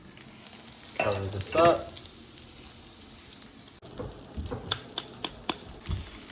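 Teriyaki tofu dinner cooking in a pot and pan on a home stove, with steady bubbling and sizzling starting to build, a few louder clatters and stirring knocks, and a brief spoken remark partway through.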